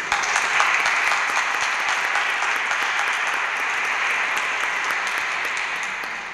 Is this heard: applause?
yes